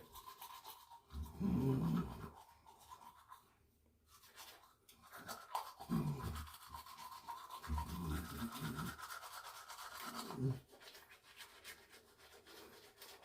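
A 99-year-old man brushing his teeth with a toothbrush in the morning, soft bursts of rhythmic scrubbing and rubbing separated by short pauses, close and fairly quiet.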